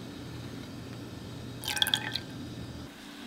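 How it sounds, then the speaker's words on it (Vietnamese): Whipping cream heating in a pot on the stove comes to a gentle simmer, giving a brief cluster of small, quiet bubbling pops and drips over a steady low background. "Khi thấy sôi lăn tăn thế này là được."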